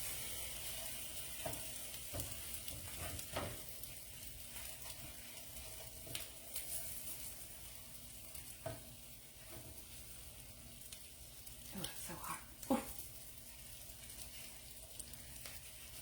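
Eggs frying in a pan that is not fully non-stick, a soft steady sizzle running throughout with occasional scrapes and taps of a utensil against the pan.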